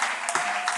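A church congregation applauding during a Sunday service: a brief, steady wash of many hands clapping together.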